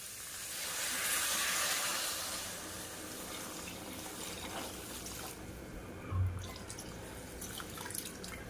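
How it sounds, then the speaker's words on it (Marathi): Crab broth pours and splashes into a pot, a steady wet rush with a small knock midway, and no one speaking. "हे पाणी खेकडे चेचून घेतलेलं आहे ना, हे ओतायचं आहे यामध्ये"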